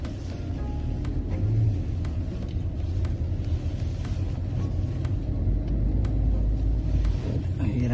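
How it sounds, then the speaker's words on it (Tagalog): Cars wait in a queue for online order pickup at a Bunnings warehouse in New Zealand, giving a low, continuous idling rumble with slight swells of engine noise close by while people talk over it throughout. "Kaya pala pila-pila yung mga sasakyan eh."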